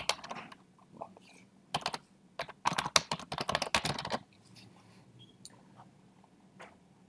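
Keys clatter on a computer keyboard while composing text in Microsoft Outlook, a quiet close burst of rapid typing with a few scattered keystrokes before and after.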